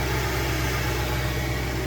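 A Mercedes M273 V8 idles in an X164 GL550 with the hood open, a steady close low hum with faint vibration and no talk over it.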